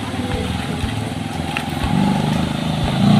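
A motorcycle engine runs steadily close by, its low drone rising slightly in the final second or so, with faint talk in the background.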